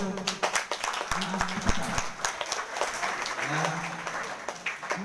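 An audience at a junior high school gathering in Nias Barat applauds students, with scattered close claps running throughout, mixed with murmuring voices and a speaker talking over them.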